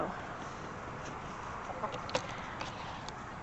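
Faint, scattered clucks from chickens at a distance over a steady background hiss during a winter blizzard, a few sharper calls standing out.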